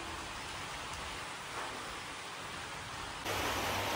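Steady rain that has been falling since the night before, a soft, uniform wash of patter that swells slightly louder near the end, with no talking.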